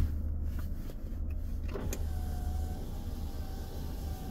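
Power windows on a 2011 Mercedes-Benz C200 W204 run in one-touch mode, a steady motor whir inside the car with a few faint clicks, no talking.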